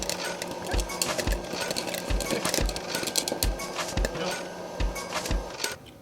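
A small countertop popcorn machine runs at a live cooking demonstration, with repeated sharp pops landing at an irregular, fairly steady pace over a constant whirring hum.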